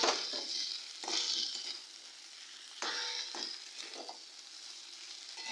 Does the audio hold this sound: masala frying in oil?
yes